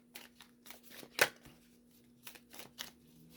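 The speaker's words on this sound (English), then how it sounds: "Okay, a couple more shuffles." Playing cards are shuffled in a series of quick, crisp riffling bursts, irregularly spaced, close up and with no talking.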